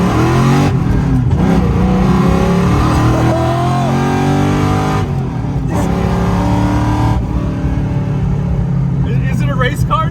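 A powerful Ford Mustang GT engine roars loudly as it accelerates hard, with rising and shifting pitch through gears, while people talk over it.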